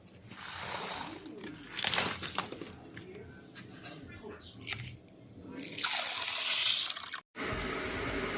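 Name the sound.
rinsing samp grains in water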